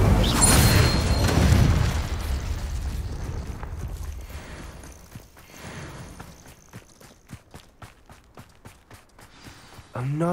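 A Hogwarts Legacy Incendio fire spell bursts out with a loud, roaring whoosh that fades over several seconds, then light footsteps patter rhythmically in the background.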